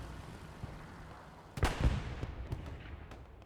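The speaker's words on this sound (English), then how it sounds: "At least artillery is coming down in this area." Artillery shelling during a Hill 400 match in a World War II shooter, a sudden heavy boom followed by a second blast and scattered distant thuds over a quiet rumbling battlefield backdrop.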